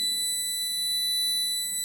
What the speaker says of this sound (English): Then you can see buzzer will start beeping when once it will detect my hand